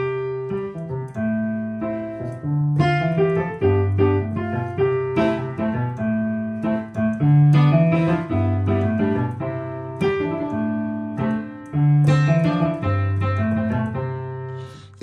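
Piano plays a song with moving passing tones in the bass under sustained chords, a steady, clear solo performance over about fifteen seconds with no talking.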